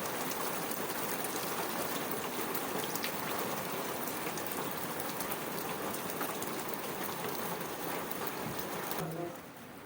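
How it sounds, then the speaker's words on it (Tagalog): Rain falls in a dense, steady patter on nearby surfaces, holding constant for most of the stretch before dropping off abruptly near the end. "Saglit lang yung ulan pero marami ng tubig."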